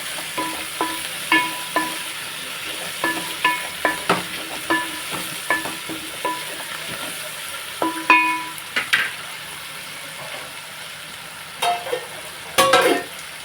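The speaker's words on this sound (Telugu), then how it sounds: "కొంచెం పుదీనా బాగా కలిపేసుకుని మనం మూత పెట్టేసుకుందాం ఒక రెండు నిమిషాలు" A spoon stirs mint and coriander through prawn gongura pulao sizzling in a pan, with rhythmic scraping strokes repeating close up over steady frying, and a louder clatter near the end.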